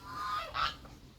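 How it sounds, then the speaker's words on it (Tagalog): A single loud, close honk from a goose in a rural Philippine province yard, a short nasal blast standing alone with no talk. "Maingay yung gansa kasi may tao."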